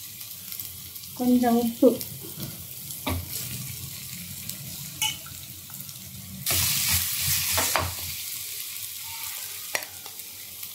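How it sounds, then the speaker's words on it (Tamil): Garlic sautéed in a pan gives a soft, intermittent sizzle with spoon clinks and stirring scrapes, while a person speaks briefly over it. "பூண்டு போட்டு 2 நிமிஷம் அந்த பச்சை வாசனை போகிற வரைக்கும் வதக்கிட்டு"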